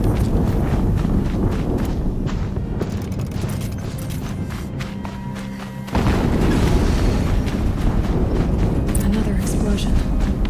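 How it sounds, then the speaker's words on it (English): A deep, booming explosion in the video game Horizon Zero Dawn rolls through a dense rumble of gameplay noise, with a second heavy surge of blast and debris about halfway through. "Another explosion."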